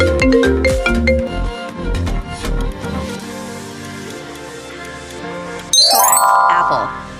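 Apple's logo chime arrives near the end as a bright, rising shimmer of bell-like tones, following several seconds of dense layered music and effects, loud and close with no voices.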